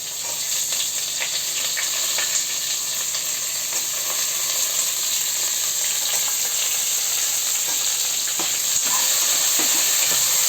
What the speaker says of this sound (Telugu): అలాగే తరిగిన ఉల్లిపాయ ముక్కల్ని బాగా ఫ్రై చేసుకోవాలి